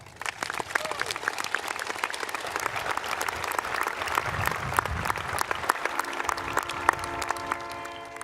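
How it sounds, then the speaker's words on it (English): An audience at a Midland High School graduation ceremony applauds the school staff with steady, dense clapping that stays fairly soft and even throughout, with a few sharper claps standing out. "can we please give a round of applause to the incredible staff here at Midland High"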